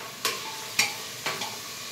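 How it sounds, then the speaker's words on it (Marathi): Onion and tomato being stirred and fried in a pan with turmeric, a steady faint sizzle broken by four sharp scraping stir strokes, close and alone without talk. "इथं सगळा कांदा टोमॅटो परतून घ्यायचा आपल्याला. थोडी हळद टाकून घ्यायची."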